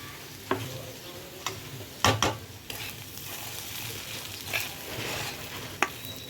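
A spoon stirs ghee-roasted semolina and peanuts in a pan, scattered sharp scrapes and taps over a low, steady sizzle, close and quiet, no speech.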